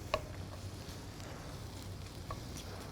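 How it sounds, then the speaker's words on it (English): Steady, soft sizzling of garlic sautéing in a pan, a continuous crackly hiss with a few small pops, close by and with no talking. "You can hear that sizzle."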